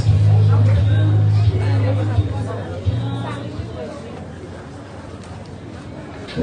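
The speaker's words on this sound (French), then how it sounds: "On a une foule immense." A huge crowd murmurs and chatters at a silver wedding anniversary celebration, a dense steady hubbub of many voices with a low hum underneath, loud and close throughout.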